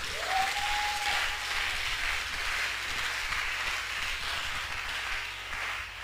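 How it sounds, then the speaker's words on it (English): A church congregation claps together in a steady wash of applause during a sermon, evenly sustained and moderately loud, with a brief high whistle-like tone near the start. "Give Jesus a hand clap off."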